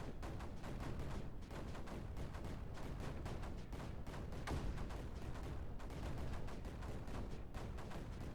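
Mortars fire steadily in the Creeper World 4 strategy game, a dense, continuous crackle of rapid explosive bursts at moderate, even loudness throughout.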